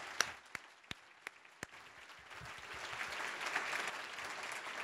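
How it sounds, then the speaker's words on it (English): At a transportation conference plenary, a few sharp, separate claps ring out near the start before a fuller round of audience applause builds and swells through the rest. "So I want all of us to give a big round of applause for Chris Ward."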